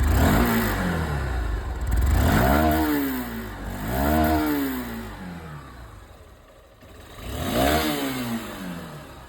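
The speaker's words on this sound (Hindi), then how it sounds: "ये 160 का जो एग्जॉस्ट साउंड है ना, वो सबसे पहले मैं आप लोगों को यहाँ पर सुनाना चाहूँगा" A 160cc Honda motorcycle exhaust revs up and down repeatedly, rising and falling in pitch, close and loud, with brief idling between throttle blips.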